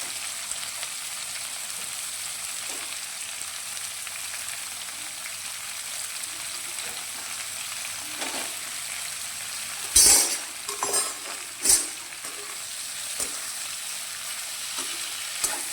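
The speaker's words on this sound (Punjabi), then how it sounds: "ਇਹਦੇ ਵਿੱਚ ਆਪਾਂ ਹੁਣ ਕਰੇਲੇ ਪਾ ਦਿੰਨੇ ਆ ਗੈਸ ਆਪਾਂ ਮੀਡੀਅਮ ਕਰ ਦਾਂਗੇ" Bitter gourd (karela) fries in hot oil over a medium gas flame, giving a steady, even sizzle throughout, broken near the end by a few louder clatters of stirring.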